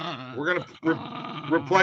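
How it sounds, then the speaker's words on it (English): A dog barks and growls on a sports betting talk show, sounding unhappy, with its harmonic yelps and snarls close and loud across the whole stretch, then briefly breaking off before resuming. "The dog started barking."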